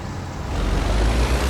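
A heavy truck in American Truck Simulator, near the Grand Canyon, drives with a steady low engine drone and broadband road rumble that swells slightly louder partway through, with no talking.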